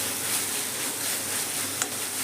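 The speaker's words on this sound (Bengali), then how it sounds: "মশলাতে আমি হালকা করে কষিয়ে নেব" Soybean chunks are lightly sautéed in spice masala without oil for a healthy soybean and dal dish. A soft, even sizzling hiss runs throughout, with one brief clink.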